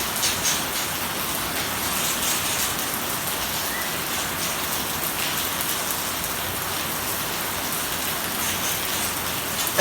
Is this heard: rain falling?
yes